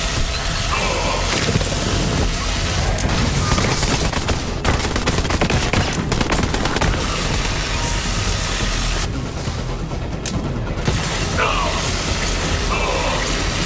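Dense, nonstop gunfire and thumping impacts from the video game Borderlands 3, loud and continuous with rapid bursts throughout, and a voice faintly mixed in.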